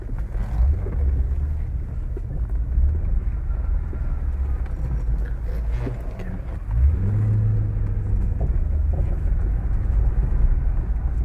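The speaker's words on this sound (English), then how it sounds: "Car certainly makes a nice noise through here anyway." An MG ZT260 V8 engine drones steadily from inside the car, its deep rumble rising as it accelerates partway through, with no talking.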